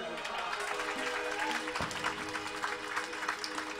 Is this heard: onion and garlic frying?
no